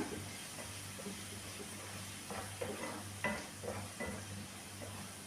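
Carrots fry in a pan with chilli powder, giving a soft, steady sizzle and hiss broken by occasional scraping stirs of a spoon. The sound is close but fairly quiet.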